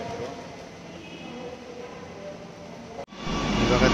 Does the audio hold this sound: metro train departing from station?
yes